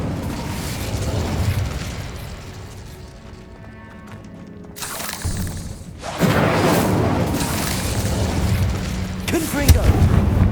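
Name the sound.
Incendio fire spell, Hogwarts Legacy video game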